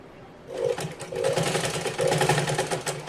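A sewing machine stitches a cotton frock for a one-year-old baby, running in steady bursts of rapid needle chatter. The motor whirs loudly and close, with no voices.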